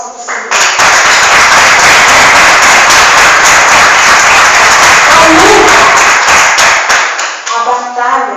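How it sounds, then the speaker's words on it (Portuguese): Loud, close applause from a church congregation clapping for the Lord, a dense roar of hands after a short start, with a few voices breaking through near the end as it dies down. "Uma salva de palmas para o Senhor"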